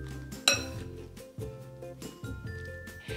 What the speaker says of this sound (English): Once you have added the snow fungus in, give it a toss